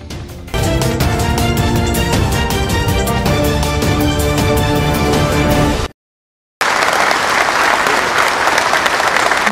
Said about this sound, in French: Des applaudissements frénétiques pour saluer l'entrée du chef de l'État, Félix-Antoine Tshisekedi Tshilombo.